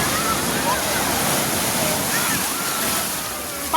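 Sea waves at Digha beach, a continuous broad roar of surf washing close by, steady and loud with wind noise on the microphone.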